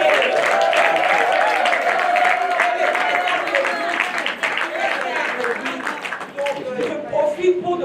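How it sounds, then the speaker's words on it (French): An audience at a Women's Month closing ceremony claps steadily at a moderate level while voices carry over and through the applause, which thins out toward the end. "il faut vraiment applaudir Madame Charlotte."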